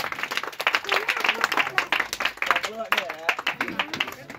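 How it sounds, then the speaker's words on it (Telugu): Audience at a magic show applauding after a rope trick, a lively run of many overlapping claps, fairly close, with someone talking over the applause. "గట్టిగా చప్పట్లు"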